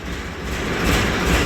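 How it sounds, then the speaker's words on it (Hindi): A tractor engine rumbles steadily just after starting, a heavy close drone that swells slightly louder toward the end, with no talking. "ट्रैक्टर स्टार्ट कर लिया है जी।"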